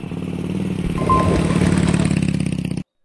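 A motorcycle rides along the Kollimalai hill road, its mid-pitched engine chugging steadily and close, rising slightly as it pulls, then cutting off abruptly near the end.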